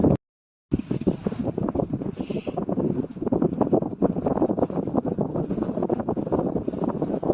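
Wind buffets the microphone aboard a singlehanded sailboat on a half-wind reach, a loud continuous gusty roar with rapid fluctuations after a brief dropout at the start, and no voices.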